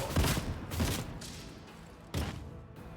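Two stun grenades burst in Warhammer 40k Rogue Trader combat, a quick pair of sharp blasts followed by a third bang after a brief pause, loud and close with no voices.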